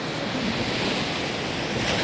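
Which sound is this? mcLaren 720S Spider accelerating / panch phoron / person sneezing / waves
waves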